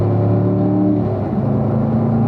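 A race car engine pulls hard after an upshift to fourth gear, a loud, steady harmonic drone close by with a slight rise in pitch and no other sound over it.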